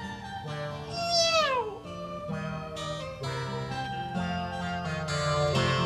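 A cat meows with a rising then falling tone over a busy musical backing, the cry standing out briefly above the music.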